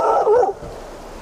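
A single dog bark or yip, loud and close, followed by a short whimpering tail that fades out over about a second, heard in a bear-country safety setting.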